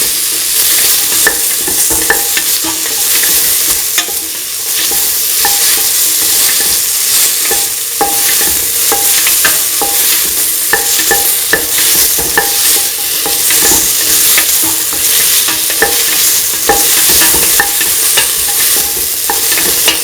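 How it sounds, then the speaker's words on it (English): Tomato pieces stirred into a sizzling lentil and ground coconut rice mixture in a hot pan, with a loud continuous fry and repeated scraping strokes of the spoon, close up and without talk. "Mix the tomato pieces with the rest of the mixture."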